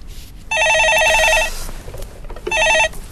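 A studio telephone rings on a live stock-market call-in show: two electronic trilling bursts separated by a short pause, loud and close.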